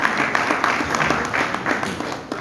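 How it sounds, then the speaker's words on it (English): A crowd claps steadily through a drug abuse awareness event, a continuous patter of hands at moderate loudness with no pause and no speech over it. "Please, a round of applause."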